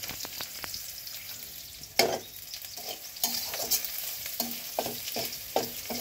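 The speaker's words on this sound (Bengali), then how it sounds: "তো এগুলো একটু ভালো করে ভেজে নিচ্ছি" Spices frying in a pan for village-style mutton curry, a steady sizzle with repeated stirring scrapes and soft clinks of the spoon, close and fairly quiet.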